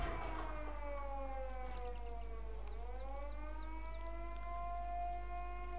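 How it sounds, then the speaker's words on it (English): A loud air raid siren in the video game Sniper Elite wails steadily in layered tones, its pitch sagging midway and then climbing again, with no voices over it. "those sirens are annoying"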